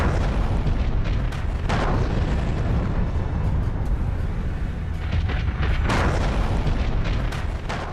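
A heavy blast in Pakistan: loud, sustained roaring rumble with sharper booming bursts rising through it, filling the whole stretch without any voices.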